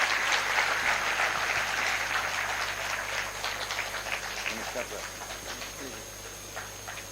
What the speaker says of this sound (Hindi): जोरदार तालियां उनके लिए बजाइए आप